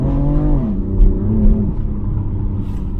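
BMW M4 Competition sports coupe running hard, its engine note stepping down through quick gearshifts with a loud, throaty exhaust rumble and rough crackling texture, close and continuous for a few seconds.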